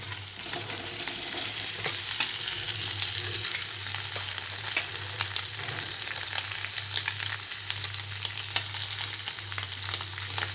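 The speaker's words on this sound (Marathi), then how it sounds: "थोडेसे शेंगदाणे चांगली फ्राय करून घेतल्यानंतर यामध्ये बटाटे टाकायचे आहे, जे आपण कट करून घेतलेले आहे" Cut potatoes fry with peanuts in a pan, producing an even, continuous sizzle with faint crackles and occasional soft stirring clicks, with a low steady hum underneath.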